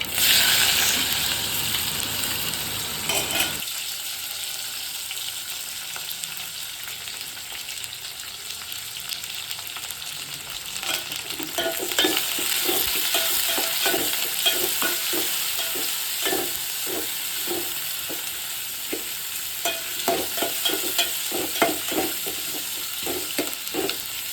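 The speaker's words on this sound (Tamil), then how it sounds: "அதை வாங்க அதில் போட்டு நல்லா வதக்கி எடுத்துக்கலாம்" Onions sizzling and frying in a pan for a village-style kola fish curry, with repeated stirring scrapes and clinks over a steady, close sizzle.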